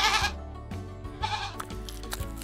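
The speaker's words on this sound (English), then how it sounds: "It's a goat!" A goat on a farm bleats loudly in two wavering, nasal calls, close and clear with no talk over them.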